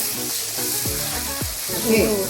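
Onions fry with turmeric, chili, coriander and garam masala powders, fennel and cumin for mutton brain fry, a steady close sizzle with a few stirring scrapes and faint sliding squeaks.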